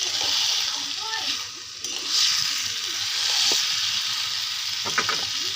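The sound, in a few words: chicken meat added to fried onions, sizzling in pan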